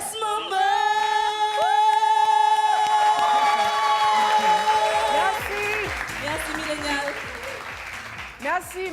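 Audience applause with some cheering at a live stage show, a loud steady crowd sound running through most of the stretch while music plays and voices call out over it.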